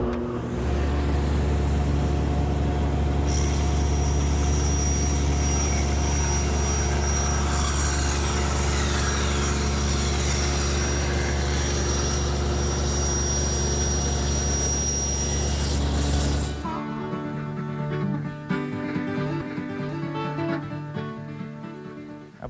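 A table saw with a slightly raised blade rips wood along a moved fence, giving a loud sustained whine and hum that ends abruptly into a fading spin-down.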